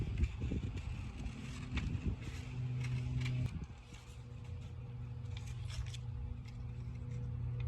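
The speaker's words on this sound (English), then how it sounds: "I'm going to cut along each line, taking my time nice and slow" Scissors snip through paper along drawn lines in a slow series of soft, close cuts while crafting a rainbow, with faint rustling and a low background hum, no talking.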